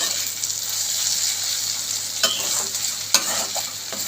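Eggplant, potato and shrimp stir-frying in a pan, a steady close sizzle with a few sharp spatula scrapes and knocks against the pan, no voices.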